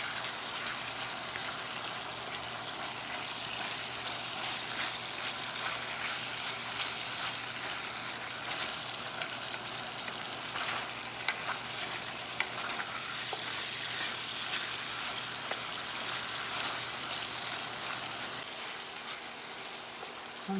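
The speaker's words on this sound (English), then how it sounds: "I'm frying up the meat slowly." Steady, dense sizzling of meat frying in a pan, with occasional scrapes and clicks of stirring throughout.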